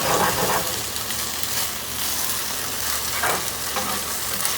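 A cornstarch-thickened stir-fry sauce hits a pan on high heat for a tofu and broccoli dish, giving a loud, continuous hiss with a few louder surges.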